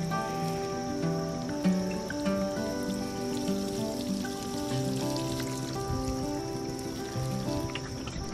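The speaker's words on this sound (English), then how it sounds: "I'm just out here watering my plants that desperately need it." Water spatters and patters steadily onto garden plants as they are watered, a continuous close hiss of droplets with no talk.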